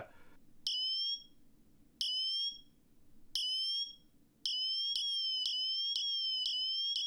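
Shrill, piercing Apple Watch Ultra emergency siren beeps repeat, first in spaced pairs with quiet gaps, then in a rapid continuous pulsing pattern, loud and close.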